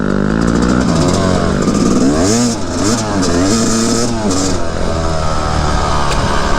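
A dirt bike engine revs loudly and close in the woods, a continuous buzzing roar whose pitch rises and falls through several throttle swings.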